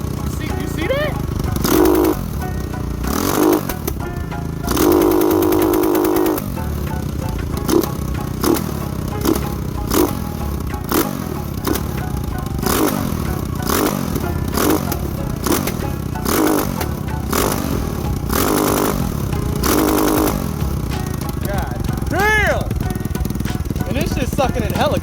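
A Lifan KP Mini 300 motorcycle engine with an upgraded carburetor runs close by in a rough, chattering idle with repeated throttle blips. Someone talks over it throughout.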